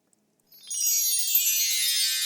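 Water poured in a steady, hissing stream into three glasses lined up in a row on a comedy stage show, rising suddenly and continuing unbroken without talk.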